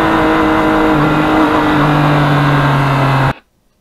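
Yamaha MT-09 2020 motorcycle engine droning steadily while riding on twisty country roads, loud and close with a sustained hum and wind, cutting off abruptly near the end.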